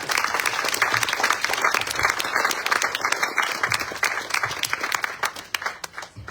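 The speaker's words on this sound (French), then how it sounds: "Sous vos applaudissements, s'il vous plaît." Audience applause at a French campaign event presenting an electoral list's candidates, steady dense clapping from a crowd filling the room for several seconds, with a faint voice underneath.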